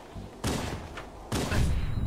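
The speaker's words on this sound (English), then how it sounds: "Oh my god, that explosion." Two heavy, booming blasts about a second apart from a grenade going off in Halo Reach, loud and broadband with rumbling tails and no talk over them.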